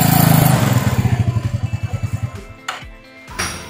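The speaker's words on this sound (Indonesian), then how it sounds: "Nah bagian CVT itu bunyi dia. Jadi cicit." A 2012 Yamaha Mio Smile scooter engine pulses loudly and unevenly, its rhythm slowing and faltering under load, with a thin high CVT squeal and slipping sound near the end.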